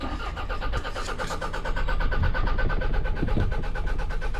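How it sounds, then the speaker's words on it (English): A cheap used car engine cranks without catching, the starter churning in a fast, even rhythm that continues steadily for the whole stretch without the engine firing. "This thing's cranking, but not starting."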